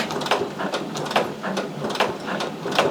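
A Brother Persona embroidery machine stitches Velcro hook-and-loop onto a flat-brim dad hat, giving a close, rapid mechanical clatter with regular rhythmic pulses several times a second and no talking.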